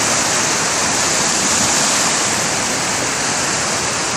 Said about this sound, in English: you're letting out even more water